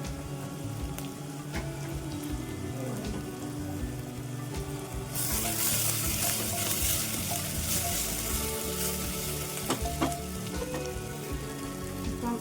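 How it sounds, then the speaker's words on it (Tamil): Small shallots and big onions frying in a pan for a Kerala-style mutton varutharacha curry, a steady close sizzle that swells louder and brighter partway through, with occasional stirring scrapes and no talking. "சின்ன வெங்காயம் பெரிய வெங்காயம் நல்லா ப்ரௌன் நிறம் ஆகிற வரைக்கும்"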